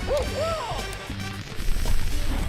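An owl in the game Super Mario 64 gives a few short, rising hoots near the start. Thuddy game sounds and background music follow.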